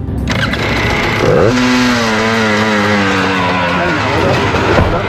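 A motorized skateboard ridden by a 62-year-old pushes toward a record 82.46 mph, its small engine screaming and rising in pitch as it accelerates hard, loud and close, with shouted encouragement from people nearby.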